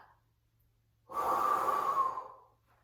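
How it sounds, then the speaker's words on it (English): A single forceful exhale in an Uddiyana Bandha yoga breathing flow, a strong breathy rush of about a second and a half that fades out, close and alone after near silence. "Exhale, blow it out."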